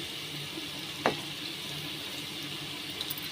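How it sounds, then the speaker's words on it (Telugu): Onions and green chillies frying in hot oil give a steady, moderately loud sizzle, broken by one sharp clunk near the start; no one speaks. "ఆయిల్ వేడెక్కినాక ఉల్లిగడ్డ పచ్చిమిరపకాయలు వేసుకున్నా"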